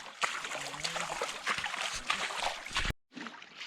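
Footsteps wade through a shallow creek in a canyon along the Lower Hackberry Trail in Grand Staircase-Escalante, Utah: close, irregular splashes and sloshing water for about three seconds, then a sudden cutoff and a short quieter tail.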